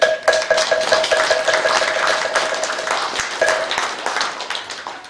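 Applause from a congregation at a Korean Taego Order Buddhist New Year ceremony, a dense, continuous crackle of many hands clapping at steady loudness throughout, with a faint sustained tone underneath.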